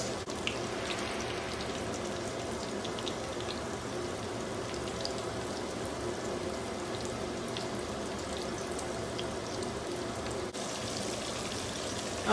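Chicken fries on medium heat in a cast iron skillet, making a steady, even sizzle that holds at one level throughout, close and continuous, with no voices.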